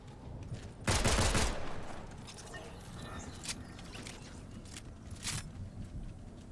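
Gunfire from the video game Fortnite: a loud, dense burst of shots about a second long, followed by fainter scattered shots and in-game clatter.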